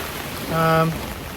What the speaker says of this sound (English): there's like a huge amount of wind and rain coming down